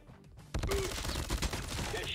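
An FFAR rifle in Call of Duty Mobile fires a sudden rapid burst that runs continuously after a quiet start, loud and dense, with a faint voice in the background.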